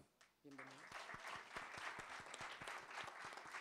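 Audience applause at a panel debate on marijuana ethics and rights welcoming the speakers, starting after a brief spoken introduction and continuing as steady, dense clapping from a room-sized crowd.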